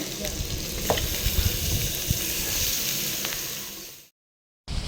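Bottle gourd pieces go into a pan of frying onions and are stirred, giving a loud crackling sizzle with scraping stir strokes. It cuts off abruptly near the end, then resumes briefly.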